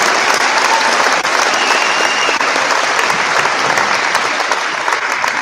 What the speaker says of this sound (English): Give a round of applause for these students